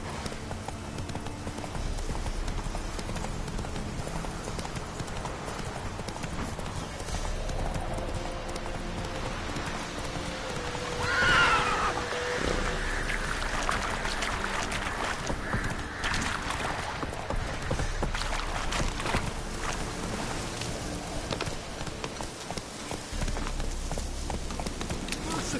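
Roach, a horse in The Witcher 3 video game, galloping with a steady rapid clip-clop of hooves throughout, a continuous busy game soundscape layered underneath.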